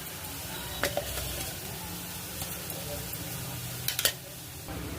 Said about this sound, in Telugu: బ్రౌన్ కలర్ వచ్చేంత వరకు ఈ ఉల్లిపాయలు మగ్గించుకోవాలండి